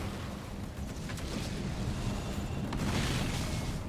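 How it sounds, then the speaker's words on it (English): A goo explosion in Halo Wars 2 rolls out as a broad, rumbling blast with a dull wash of noise that swells toward the end, steady and fairly loud. "we might have a goo explosion"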